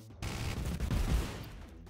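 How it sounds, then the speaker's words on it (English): Rapid gunfire from the video game ROUNDS, a dense burst of shots fired almost at once that fills the clip with a loud, rumbling clatter before trailing off. "I only shoot like once and all of my bullets are gone."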